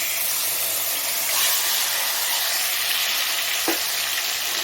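Marinated chicken with green chillies frying in about two tablespoons of oil in a kadai, a loud steady close sizzle and hiss with a brief stirring scrape, no voices.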